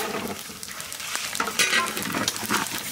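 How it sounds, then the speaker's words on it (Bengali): Whole cumin seeds, dried red chillies and bay leaves hit hot oil in a village kitchen pan, crackling and sizzling loudly with stirring scrapes and sharp spitting pops throughout. "তেল আমার গরম, ফোড়নে দেবো গোটা জিরে, শুকনো লঙ্কা, তেজপাতা।"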